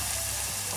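Sliced onions and brown sugar frying in a pan, giving a steady, close, dense sizzle with no break across the short moment.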